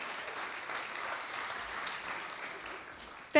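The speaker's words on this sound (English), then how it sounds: "And you can go ahead and clap for the soulscribes." Steady audience applause welcoming a college spoken-word poetry performance group, a dense even patter of many hands throughout, with a brief sharp louder sound at the very end.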